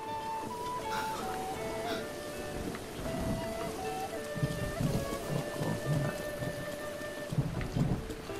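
Steady rain pours in Zelda: Breath of the Wild, a dense hiss of falling drops with low thunder-like rumbles underneath and faint game music tones drifting over it, no voices.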